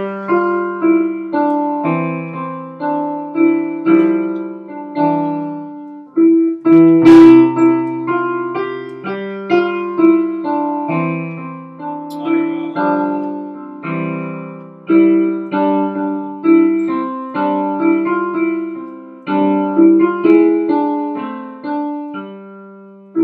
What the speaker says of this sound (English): Next we have Ode to Joy, which is just in a five-finger pattern,